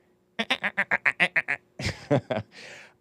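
A person imitates a dolphin noise with a rapid series of about ten short, nasal, voiced chirps, then a few rougher squeaks and a breathy trailing sound.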